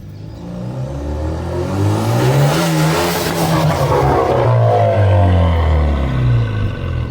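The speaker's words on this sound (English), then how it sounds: "you can hear like the boost spikes up and the timing of the car just goes crazy" Engine of a lowered Kia Forte Koup SX revving hard, with boost spiking and timing going erratic, producing a loud, continuous, wavering roar with rising and falling pitch and uneven surges, no talking.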